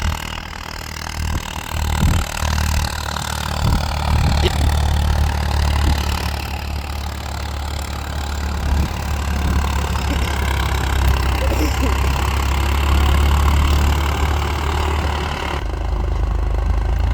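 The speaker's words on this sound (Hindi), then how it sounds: "ट्रैक्टर भाई बहुत दब रहा है" A Farmtrac tractor labouring under load as it pulls an 18-disc harrow through a field gives a steady, heavy engine drone that holds at a constant level throughout, with a deep low rumble underneath.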